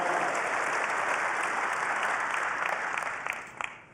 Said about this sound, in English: Big round of applause for Patrick.